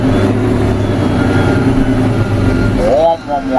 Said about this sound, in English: And engine brake.